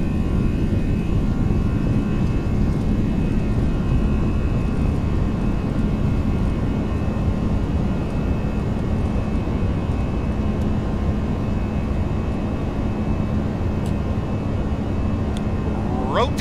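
Airbus A320 jet engines at takeoff power in the X-Plane 11 flight simulator, a steady loud broadband roar holding constant throughout, with faint speech briefly near the end.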